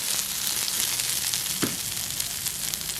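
Small onions sauté in hot oil in a pan, giving a steady, even sizzle throughout with a brief stir partway through.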